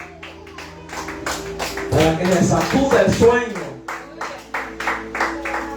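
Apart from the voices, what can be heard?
congregation clapping hands in church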